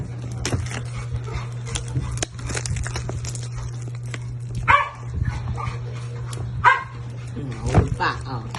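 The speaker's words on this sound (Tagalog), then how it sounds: "May maingay na aso sa background." A dog barks a few times in short clusters over a steady low hum, with people talking throughout.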